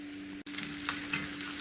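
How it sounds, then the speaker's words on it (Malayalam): Mustard seeds, dried chillies, chopped shallots and curry leaves frying in hot oil for a mango curry, a steady close sizzle with faint crackles and a low hum beneath. "1/2 ടീസ്പൂൺ കടുകും, വറ്റൽമുളകും, കുറച്ച് ചെറിയ ഉള്ളി അരിഞ്ഞതും, കുറച്ച് കറിവേപ്പിലയും കൂടി ഇട്ട് കടുക് പൊട്ടിക്കാം."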